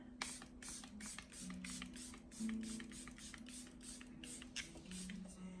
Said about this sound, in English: Let's add some facial spray.